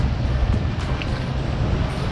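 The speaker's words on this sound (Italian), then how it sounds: "Anche se c'è un po' di vento" Steady wind rushing and buffeting the microphone out on the open sea aboard a small boat with a 40 horsepower outboard, a continuous low roar with no voices.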